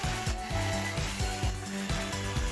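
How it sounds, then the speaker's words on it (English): A jigsaw buzzes through a wooden corn hole board leg, its blade chattering in rapid pulses with a fluctuating motor whine, close and steady over a couple of seconds. "I'm going to use my jigsaw to cut it off."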